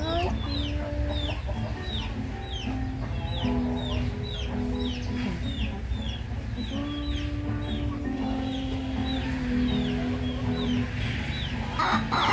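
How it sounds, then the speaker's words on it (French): Hens cluck and squawk in a family yard in Cameroon, with a rooster nearby, as repeated clucks and calls run steadily at close range over a constant outdoor background. "Ah, les petites poulettes."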